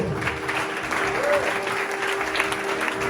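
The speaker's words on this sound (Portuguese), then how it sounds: "Dá uma salva de palmas, Deus maravilhoso." Congregation applauding during a church service, a sustained wash of many hands clapping at a steady level, with a voice speaking faintly over it.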